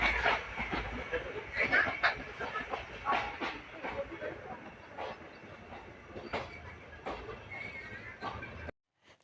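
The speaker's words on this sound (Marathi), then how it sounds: "ट्रेन चालू झाली आहे आणि ट्रेन जाता आता अयोध्याला" A passenger train bound for Ayodhya rolls along, with a steady rumble, rhythmic clacking of wheels and occasional hiss, while people talk nearby inside the carriage before the sound cuts off abruptly.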